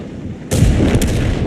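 Tank cannon fire from a Chieftain in World of Tanks, a single sudden heavy boom breaking over quiet background ambience and ringing on to the end.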